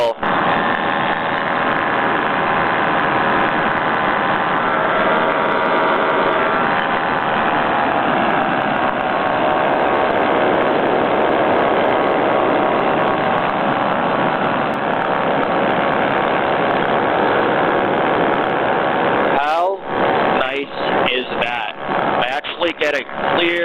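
Paramotor engine running steadily in flight at about 2000 feet, a loud continuous buzzing drone close to the pilot, with wind buffeting breaking in near the end.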